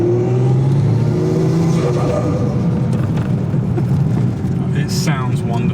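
An RX8 with a swapped 2.5 litre 1JZ turbo engine accelerates near a beach in Pattaya, Thailand, its engine droning loud and steady from inside the car, with brief voices and clicks toward the end.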